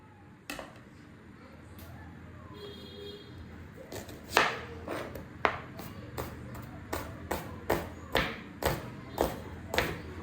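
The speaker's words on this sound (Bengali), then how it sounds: "তো এখন আমি এই পেঁয়াজটা কেটে নিই" An onion is chopped with a kitchen knife, the blade striking the board in a steady run of about nine sharp, close knocks after a few scattered early taps.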